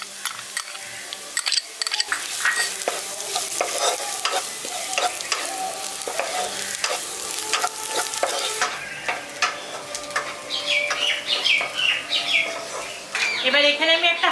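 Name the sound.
frying chopped ginger and garlic with onion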